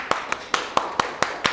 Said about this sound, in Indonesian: Kita sekali lagi berikan tepuk tangan kepada kelompok 3.